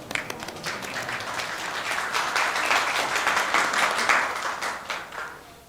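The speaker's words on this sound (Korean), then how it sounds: "또 하나님께 영광의 박수를 돌리십시오." A church congregation breaks into sustained applause, swelling gradually to a peak before tapering off near the end, with no voices over it.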